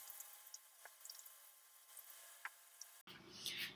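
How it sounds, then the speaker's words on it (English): Dirty beets being scrubbed under cold running water in a kitchen sink, a thin trickle with occasional drips and squishes, then a sudden louder rush of water near the end. "So I'm gonna give them a good scrub in some cold water"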